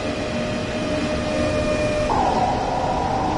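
Rail sounds from the Train Sim World video game, a steady broadband rumble with faint tonal hums, joined near the end by a higher whining tone as a nine-wagon Doppelstock train set sits nearby, with no talking.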